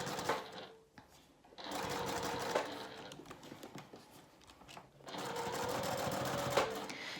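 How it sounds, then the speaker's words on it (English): A sewing machine stitches back and forth across a fabric face mask, its needle buzzing in rapid, close bursts separated by brief pauses. "I'm going to stitch back and forth a few times to keep it in place"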